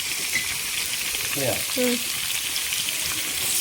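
Shallots sizzle in a hot pan with a continuous bright frying hiss, close and steady, while a voice speaks briefly over it in the middle.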